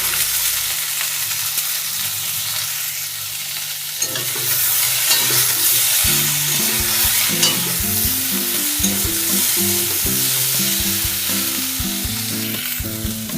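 Vegetables fry with turmeric in a pan, a steady loud sizzle with stirring scrapes and clatters joining midway and continuing to the end.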